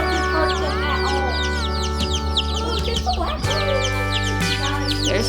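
Newly arrived hatchery baby chicks peeping constantly, a dense chorus of high, rapid overlapping cheeps from many birds nearby over a steady low electrical hum.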